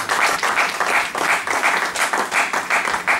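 A church congregation applauding loudly in a steady wave of rhythmic clapping, close and full, with a faint voice underneath.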